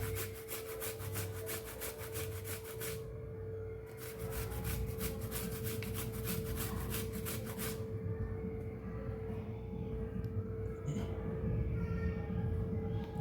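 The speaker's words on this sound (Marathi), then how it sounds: "तुमच्याकडे जर अद्रक असलं तर तुम्ही किसून टाकू शकता" Fresh ginger is grated steadily against a grater for a Maharashtrian masale bhaat: a continuous close scraping rasp over a faint electrical hum, with no pauses and no talk.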